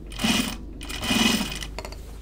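A sewing machine stitches fabric for a notions case in two quick bursts of rapid, close mechanical whirring, with a short pause between them and a few faint clicks afterward.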